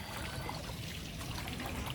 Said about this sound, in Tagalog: Ayun, naulan na naman oh. Start na naman yung ulan.